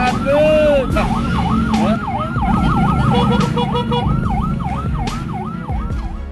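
Ambulance siren carrying a critical patient, escorted through traffic by a woman in a house dress. The wail is loud and close, cycling rapidly and evenly over a dense traffic rumble with intermittent horn-like tones.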